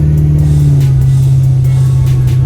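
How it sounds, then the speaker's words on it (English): A pickup truck with a malfunctioning transmission stuck in limp mode hums with a loud, steady engine drone close to the mic, and the revs seem held back rather than climbing freely. "it's almost like it defueled the motor. Like it almost stopped the motor from revving."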